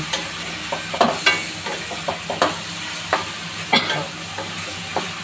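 Chicken liver adobo with pechay gets stirred in a sizzling pan, a spoon scraping and knocking against the metal in a steady series of close clattering strokes over a constant frying hiss.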